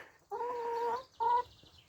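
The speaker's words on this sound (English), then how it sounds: "Smart chickens." Two bursts of close chicken clucking, a longer run of harmonic clucks followed by a short second call, with quiet between.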